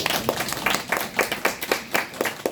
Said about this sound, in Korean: 자, 박수 한번 주세요.